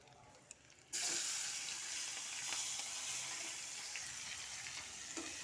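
Onions tipped into hot oil in a pan sizzle loudly from about one second on, a steady broad frying hiss after a near-silent start, with a few faint clicks.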